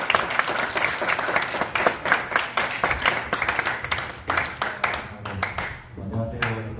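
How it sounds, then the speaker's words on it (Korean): A church congregation applauds at an Easter service as a youth group member steps up, with brisk, fairly loud clapping from many people that thins out near the end, where a voice begins to speak. "우리 나오실 때 박수로 좀 맞아주십니다."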